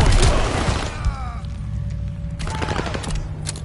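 Rapid bursts of gunfire crackle around a hardpoint objective in a video game match, loud and dense at the start, then easing before another volley of shots near the end.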